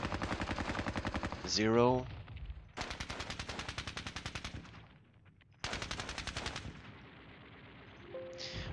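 Rapid machine-gun bursts rattle in the strategy game Squad Battles Red Victory, several separate volleys with short pauses between them, a brief whistling sweep early on and a voice speaking faintly.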